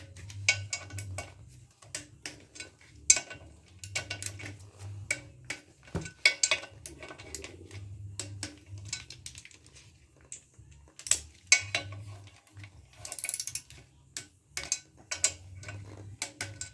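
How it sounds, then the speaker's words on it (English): Torque wrench tightening small M8 bolts on a Land Rover Discovery 300Tdi engine, giving repeated close, sharp clicks and ratchet ticks in irregular bursts over a low background hum. "I've got my torque wrench set up. These little M8s."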